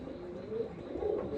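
Andhra pigeons, a male and a female, coo softly with a low murmur in a quiet setting, faint and continuous with no voices.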